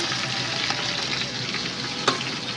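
Chicken fries steadily in a pan with ginger, giving an even, close sizzle throughout with one brief clink or stir partway through. No one speaks.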